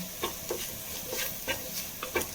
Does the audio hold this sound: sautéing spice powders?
yes